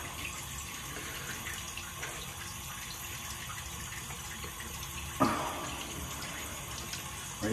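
Water runs steadily from a tap into a sink, a constant broadband hiss with a sharper splash near the end.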